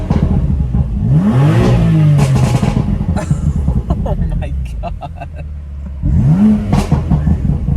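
A tuned car engine with a Stage 1 BOOTMOD3 tune revs hard twice while parked in neutral, rising and falling loudly up close, with a person exclaiming over it between revs.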